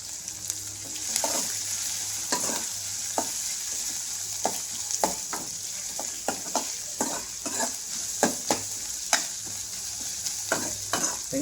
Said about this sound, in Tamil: இப்போது பச்சை மிளகா போட்டு நல்லா வதக்கணுங்க